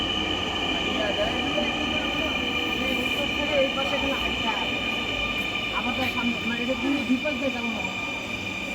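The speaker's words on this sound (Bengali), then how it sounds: "মেট্রো চলে আসছে" A metro rail train arrives at a station in Dhaka with a steady, loud rumble, a high electric whine and scattered wheel squeals across the whole stretch.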